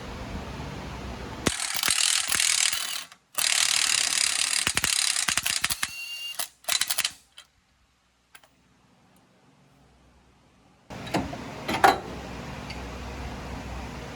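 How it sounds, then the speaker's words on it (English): A hand ratchet removes the bottom nut on a Polaris Ranger 1000 wheel hub. It gives loud, rapid clicking bursts in several separate runs with short quiet gaps between them. "Now we got to take our bottom nut off."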